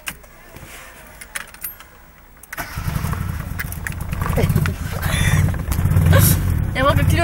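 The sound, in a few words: 1990 Mitsubishi Lancer engine starting, running on two cylinders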